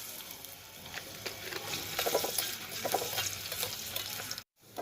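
Onions fry in oil in a wok, a soft, close sizzle with light stirring clatter that swells midway, then a brief drop to silence before resuming; no talk.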